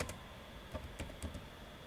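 Quiet, sparse keystrokes on a computer keyboard, a few soft clicks spaced about a quarter second apart over faint background hiss, with no talk.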